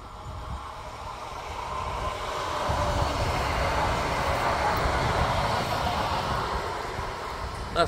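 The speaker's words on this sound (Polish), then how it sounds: "Jedzie pociąg." A train rolling past near Łódź Fabryczna station, a broad steady rumble that builds over the first few seconds and holds loud and close, with wind-like outdoor noise and no voices.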